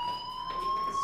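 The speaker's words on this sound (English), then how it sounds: "Hey, do you hear that fire alarm?" A school fire alarm in the video game Life is Strange rings as a steady, continuous electronic tone, sounding alone at a fairly even level throughout.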